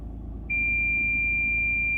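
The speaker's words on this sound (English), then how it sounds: "I will activate the buzzer" An ABS module buzzer, triggered by a Kingbolen S608 OBD2 scanner, sounds a steady high-pitched continuous tone that starts abruptly half a second in and holds over a low engine-like hum.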